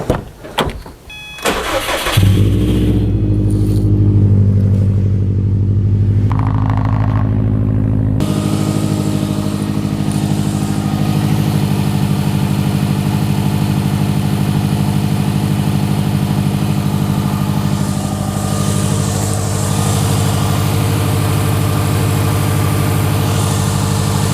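A Subaru engine, fresh from an oil change, cranks and fires, revs briefly, then settles into a steady, close idle that runs on alone at an even hum.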